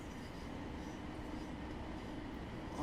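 A passing train in the Train Sim World 3 simulator, near a Thameslink Class 700, rumbles steadily with a dense rolling roar that swells slightly at the end.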